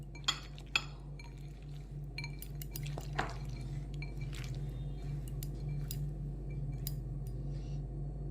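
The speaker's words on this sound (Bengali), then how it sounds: "এখন মাছের মধ্যেও হলুদের গুঁড়োটা ভালো করে মাখিয়ে নেব।" Small mourala fish are worked by hand with turmeric powder, giving soft wet squishing and squelching punctuated by a few sharp clinks against a dish, quiet and close with no talking.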